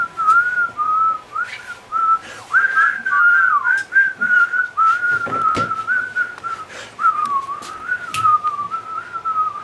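Someone whistles a wavering tune, close and fairly loud, in short phrases with brief gaps, sometimes sliding between notes, over faint background rustling.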